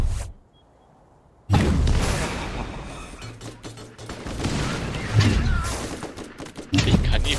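Dense bursts of rapid gunfire in the video game Borderlands crackle and pop throughout, loud and close, after a brief quiet opening, with a voice speaking underneath.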